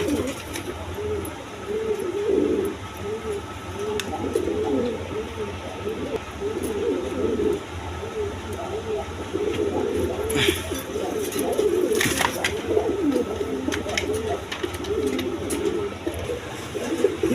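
A pair of Rajgolla pigeons coo steadily and repeatedly at close range, a low rolling rhythm of calls, with faint background noise from the pigeon farm.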